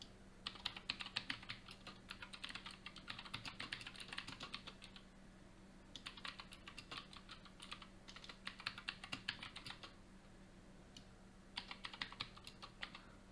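Typing a commit message on a computer keyboard: quiet, close bursts of rapid key clicks broken by short pauses, with no talking.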